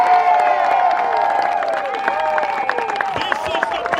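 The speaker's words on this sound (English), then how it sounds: "Let's give them a great round of applause." A crowd at an outdoor protest claps and cheers, dense applause with scattered whistles and shouts, loud and continuous throughout.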